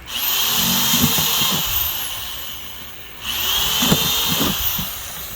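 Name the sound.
power drill drilling a plant pot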